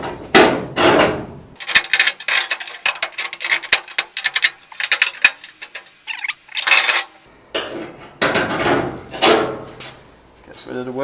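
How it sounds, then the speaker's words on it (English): Deburring tool scraping along a freshly cut metal edge on a Ford Escort MK2 front wheel arch, giving a series of short, close, rasping strokes in an irregular rhythm, with brief pauses and small knocks between passes. "My favourite tool, deburring tool."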